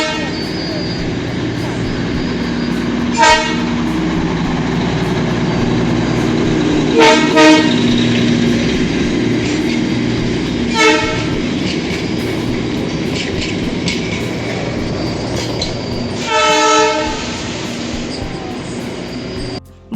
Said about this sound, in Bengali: আমরা আওয়াজ পেয়েছি টয় ট্রেন আসছে